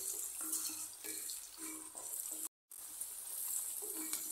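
Onions sautéing in a pan for Tamil-style chicken gravy, a steady close sizzle with broad hiss, a few soft stirring knocks and one very brief dropout midway, no talking.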